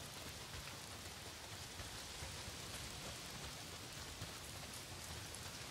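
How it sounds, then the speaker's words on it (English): Heavy rain from the video game Days Gone pours down in a dense, even hiss that never lets up, steady and fairly faint, with no voices over it. "Well, not if it's pissing down rain."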